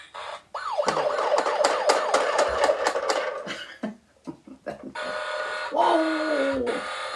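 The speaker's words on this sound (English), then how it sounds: "this is the sound that the fire engine makes" A toy fire engine siren wails in rising and falling sweeps for a few seconds, then gives way to a softer electronic tone, with a voice talking over parts of it.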